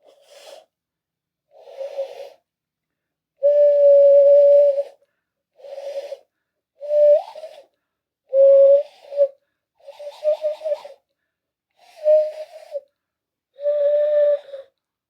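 Hand whistle blown through cupped palms imitating a birdcall: nine breathy, hollow hoots in an uneven rhythm, some short and some held, a few bending upward, close and clear against silence.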